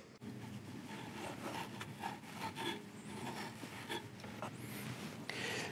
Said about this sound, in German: Jetzt müssen wir einmal mit unserem Schleifvlies arbeiten und mit unserem Entgrater.